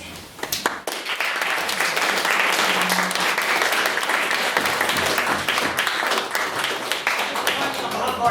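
Applause from a debating audience after a motion speech on stopping Mars exploration funding, a dense sustained burst of clapping that swells after a few scattered claps and holds steady, with some voices mixed in.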